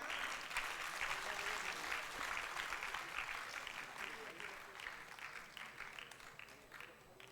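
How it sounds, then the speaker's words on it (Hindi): An audience applauds at the Netrakumbh 2021 opening ceremony in Haridwar, steady sustained clapping from a crowd filling the whole stretch and fading slightly toward the end, heard at a moderate distance. "एक बार जोरदार तालियां।"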